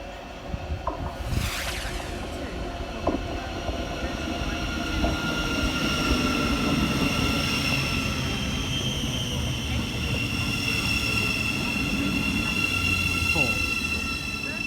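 A train passing through Shepreth station's level crossing, a steady loud rumble of wheels and carriages with squeals, continuing throughout, with a faint announcement voice underneath.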